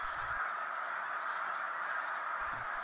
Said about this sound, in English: you can hear the snow geese coming, louder and louder